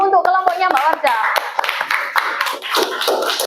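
Schoolchildren in a classroom clap for a group of classmates, sharp close handclaps in quick uneven bursts, with a voice over the first second and scattered chatter mixed in.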